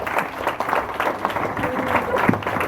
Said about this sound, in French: Donc vous pouvez applaudir le trésorier.